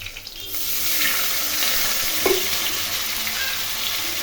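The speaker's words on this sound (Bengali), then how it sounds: "জিরে ফোড়ন দিয়ে দিলাম" Cumin seeds hit hot oil for a rui fish curry and break into a steady crackling sizzle after a brief quiet start, close and continuous with a faint clink partway through.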